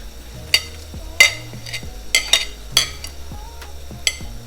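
Red onion, pepper, ginger and garlic stir-frying in a pan for chicken vegetable ramen, with a steady low sizzle and sharp clinks and scrapes of a utensil against the pan at irregular intervals.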